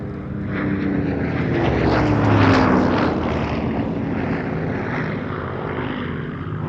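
Spitfire and Hurricane propeller fighters at the Duxford Battle of Britain airshow, a steady engine drone swelling as an aircraft passes near, then holding on a continuous roar.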